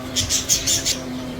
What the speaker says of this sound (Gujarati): કાબર કાબર જો આપણે